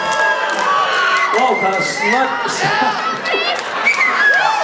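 Loud crowd cheering and whooping in a hall at the Finlandia Vodka Cup 2010, a dense roar of many voices with shouts rising throughout, close and sustained, with people talking over it.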